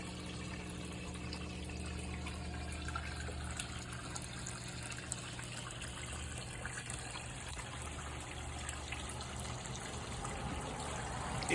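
Faint, steady trickle of water falling from a Bob filter into a small backyard goldfish pond at night, a continuous soft splashing at close range with no talking.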